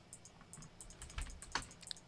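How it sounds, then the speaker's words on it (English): Computer keyboard keys click and clatter in irregular bursts of typing, faint and close, with no talking over them. "There's a lot of clicking going on."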